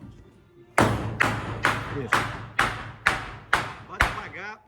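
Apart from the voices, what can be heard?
hammering nails into a fireplace cover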